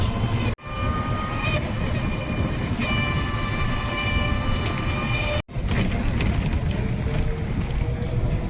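A train rumbles past steadily at close range, with a broad rushing roar, metallic squeals and rattling wheels. There is no talking.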